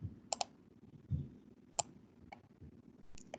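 Several sharp, quiet computer mouse clicks come singly and in quick pairs against a faint background hum.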